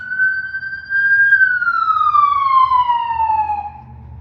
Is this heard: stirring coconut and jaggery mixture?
no